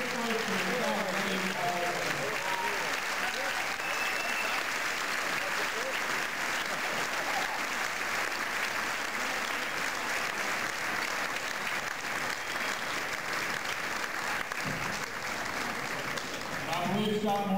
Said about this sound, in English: have a great round of applause for all five of our great inductees in the Bishop Rosecrans Hall of Fame